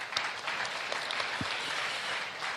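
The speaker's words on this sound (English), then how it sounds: "Give a big round of applause" An audience claps steadily throughout, a dense wash of many hands applauding at moderate volume.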